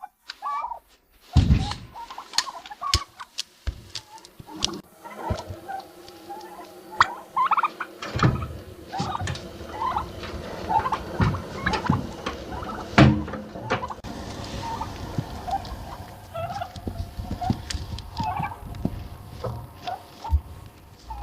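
Turkeys on a historic farmstead, with repeated gobbling calls and clucks scattered over about twenty seconds, mixed with knocks and thuds as feed gets tipped over nearby.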